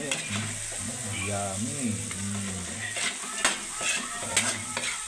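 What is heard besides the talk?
stirring pinakbet with meat and tomato in a pan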